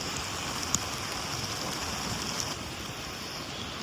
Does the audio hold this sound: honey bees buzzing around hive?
no